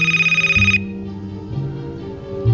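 A cell phone rings with a steady, pulsing electronic tone for under a second, then cuts off and gives way to quieter low background sounds with a soft thump near the end.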